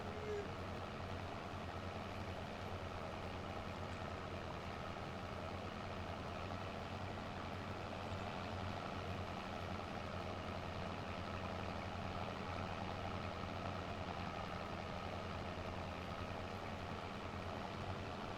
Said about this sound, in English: But articulated tractor here.